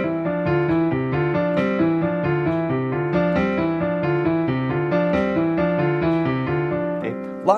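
Piano plays a brisk, evenly paced exercise of repeating notes that hop up and down in a bouncing pattern, clear and close with no talking.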